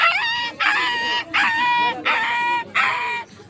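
A man vocally imitates a local street dog crying after being beaten, giving four long whining, yelping bursts in a steady rhythm with short gaps between them, loud and close.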